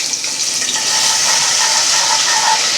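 Ginger and garlic hit hot oil in an egg korma pan, giving a steady, loud, close sizzle and crackle that holds throughout.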